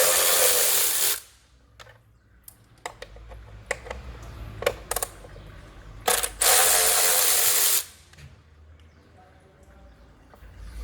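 T30 Torx bit being worked on the top engine cover of a Mini Cooper during a service, with loud ratcheting bursts at the start and again midway, plus scattered close clicks and taps between them.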